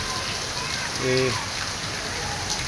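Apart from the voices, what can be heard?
heavy rain falling in a Lahore park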